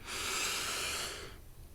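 A long, airy inhalation during a sophrology breathing exercise draws in steadily and close to the microphone for over a second, then fades into quiet.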